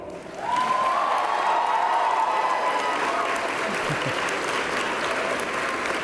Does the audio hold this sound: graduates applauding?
yes